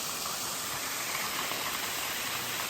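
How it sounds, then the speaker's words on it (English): The waterfall at Gozalandia, Puerto Rico, gives off a constant broad rushing hiss of falling water, steady and moderately loud with no voices over it. "And the waterfall"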